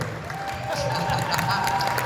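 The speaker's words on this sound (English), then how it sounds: "Let's give Eminem another hand." An audience claps and cheers for Eminem at an agent conference panel, a steady dense wash of applause from a crowd, with voices mixed in.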